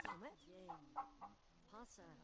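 Chickens in The Sims Medieval give several short, soft clucks and murmurs, faint and spaced out, with a brief higher call near the end.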